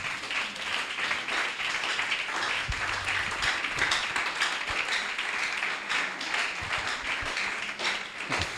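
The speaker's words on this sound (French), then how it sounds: "Applaudissons l'Éternel." A church congregation at a Sunday service claps together in sustained, fairly close applause, with a few louder individual claps standing out.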